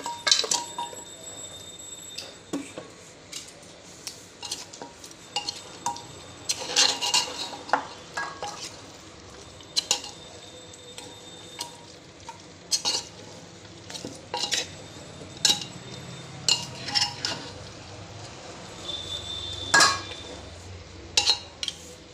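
Spoons of curd going into a dish, with spoons and utensils clinking and scraping against a metal bowl in irregular close taps over a soft kitchen background.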